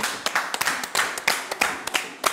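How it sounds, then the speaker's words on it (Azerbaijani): Scattered, uneven clapping from a studio audience for a small child on an Azerbaijani TV show, sharp separate claps with short gaps, fairly close and not very loud. "Alqışlayaq balacanı."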